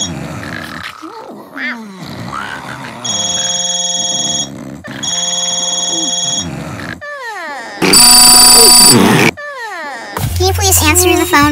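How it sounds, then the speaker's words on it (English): Electronic telephone ringing in bursts of steady tones amid a chaotic cartoon-style mix of voices, grunts and effects, loud and close. "Answer the phone because you're grounded, Gummy Bear."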